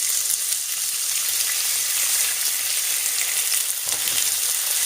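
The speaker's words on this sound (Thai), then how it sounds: "แล้วก็จะเอาลงไปทอดจ้ะ" Loud, close sizzling of sweet pork frying in a pan, a dense continuous hiss with a brief stir or scrape near the end, no voices.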